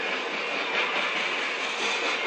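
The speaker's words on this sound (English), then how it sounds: "You can hear them, you can hear the wheels singing. It's the metal on metal rolling sound." Train wheels rolling on steel rails give a steady, dense metallic roar with a faint singing tone, continuous and close, with no voices over it.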